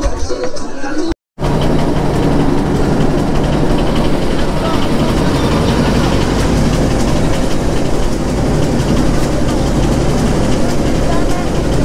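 A boat engine running loud and steady near the listener on a river trip in Sylhet, a continuous low rumble after a brief dropout, with voices mixed in.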